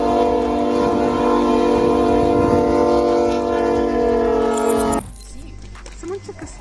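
Train used as a massive snowplough, ploughing through deep snow: a loud sustained horn-like tonal blare over heavy rumbling for about five seconds, then cutting off abruptly to quieter scattered noise.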